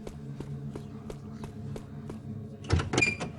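A door opens in the stealth video game Thief: Deadly Shadows with a short clatter and creak near the end, following a steady series of footsteps, moderately close and not loud.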